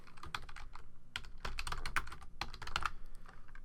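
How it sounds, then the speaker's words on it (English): Fingers type on a computer keyboard at a desk, producing quick irregular bursts of clicking keystrokes close to the mic, fairly soft and with no voices. "Now let's type in greetings from."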